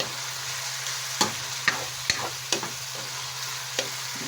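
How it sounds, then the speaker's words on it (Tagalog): Ground meat sizzles with onion and garlic in a frying pan, a steady crackle broken by five or six sharp scrapes and taps of a spoon stirring against the pan. "Yung giniling inilagay ko na. Sibuyas tsaka bawang na ginisa."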